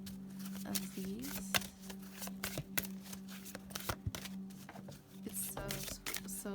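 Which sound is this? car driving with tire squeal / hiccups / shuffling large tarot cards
shuffling large tarot cards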